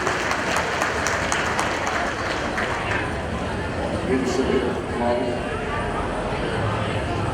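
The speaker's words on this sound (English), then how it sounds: "So give yourself a round of applause for boosting our economy." A crowd at an event outside the Fresno County Fair applauds, a dense, sustained, fairly faint wash of clapping with voices blended underneath.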